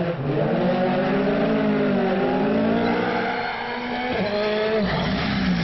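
A race car on a snowy time trial course, its engine loud and close, revving through rising and falling gear pitches with shifts and brief throttle lifts, continuous throughout with no talk.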